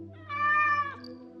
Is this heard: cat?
yes